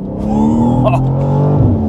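Loud, close engine roar from a BMW M2 with a 460 hp inline six accelerating hard, rich rising harmonics building steadily before a quick drop near the end.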